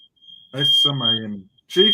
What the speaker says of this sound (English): That's my fire alarm going off in the house.